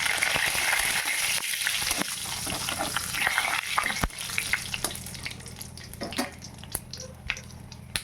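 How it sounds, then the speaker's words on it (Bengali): Five-spice, dry red chillies and bay leaves frying in hot oil in a home kitchen, giving a steady crackling sizzle that stays fairly loud throughout, with a few sharp pops and spatters rising above it. "এবার ওই তেলের মধ্যে দিয়ে দিলাম 5 ফোড়ন,"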